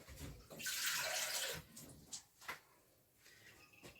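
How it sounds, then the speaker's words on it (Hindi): About a cup of water poured into a pot of cooking meat seasoned with ginger, black pepper and salt, a bright rushing splash lasting about a second, followed by faint scattered knocks and quiet background. "ये 1 कप पानी का है, ये डालना"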